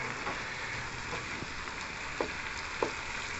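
Onions sizzle steadily in a hot skillet over high heat, a soft, even crackle with a few faint pops, heard close with no talking.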